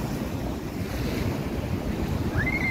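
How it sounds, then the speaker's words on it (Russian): Large sea waves roll and crash steadily under heavy wind rumbling against the microphone, with continuous loud surf noise and no talking. "Вот идет большая-большая волна."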